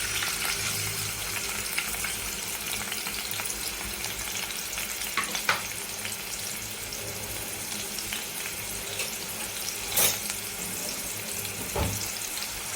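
Chopped onion frying in hot oil in a pot on a gas stove for a Marathi prawn curry, a steady close sizzle throughout with a few clinks of a spoon.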